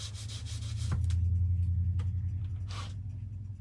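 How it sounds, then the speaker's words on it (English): A hand spreads a thin layer of paste wax over a surface with steady side-to-side rubbing strokes, close and soft over a low background rumble, with no talking. "let's put a little layer of wax on here"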